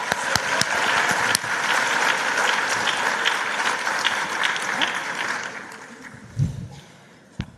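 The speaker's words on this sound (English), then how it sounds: "Let's give them all a big round of applause." Audience at a global forum breaks into loud, dense applause that holds steady for several seconds, then thins and tapers off toward the end, with a few scattered claps and a brief thump near the close.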